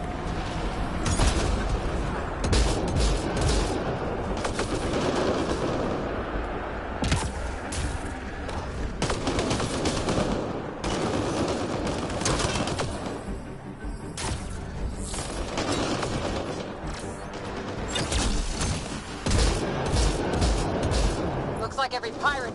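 Loud, dense gunfire and booming blasts from a firefight against pirates in the sci-fi shooter Mass Effect Andromeda, with bursts and impacts crowding together under steady game background noise and voices talking throughout.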